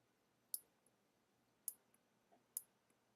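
A stepper motor advances in 45-degree steps, giving three sharp, faint clicks spaced about a second apart with tiny ticks between, in a quiet room.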